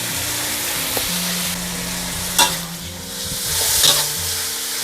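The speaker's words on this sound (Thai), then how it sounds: "เมื่อเราปรุงทุกอย่างเรียบร้อยแล้วให้เราผัดเลยค่ะ เขาส่วนผสมให้เข้ากัน" Chicken offal and bamboo shoots are stir-fried with oyster sauce, fish sauce and a little sugar, producing a continuous close sizzle under scraping and stirring, with a couple of louder clatters from the pan.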